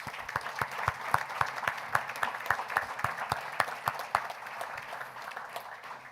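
Round of applause at a Mayor's Night Out community meeting, a steady clatter of hands from a modest crowd, with a few distinct nearby claps standing out against the wash of the rest.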